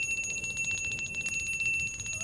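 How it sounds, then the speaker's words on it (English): Doorbell rung violently and repeatedly at a front door, a rapid continuous metallic ringing with fast pulsing strokes, fairly loud and close, with no talking. "Judging by the way he's wrenching at that doorbell, he's a man with a violent temper."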